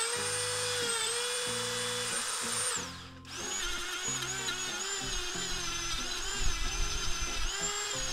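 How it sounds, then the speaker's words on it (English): A wood lathe spins a turned pen while it is sanded through successive grits, giving a steady high motor whine with scratchy sanding texture, a brief dip in the middle, then resuming close and loud. "I'm really just buzzing through these grits now."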